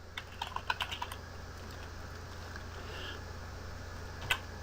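Soft, close keyboard typing from someone writing JavaScript code, with a brief cluster of key clicks at the start, a quiet gap, then one more tap near the end.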